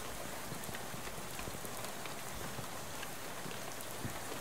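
Steady rainfall in the comedy Lovecraftian adventure game Shadows Over Loathing, a faint, even wash of pattering drops on surfaces with no voices.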